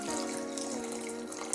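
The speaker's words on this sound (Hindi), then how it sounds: "अब हम इसमें डाल रहे हैं आधा ग्लास पानी।" Half a glass of water pours into a blender jar already holding ice cubes for mint lemonade, a close, continuous splashing trickle lasting a second or two.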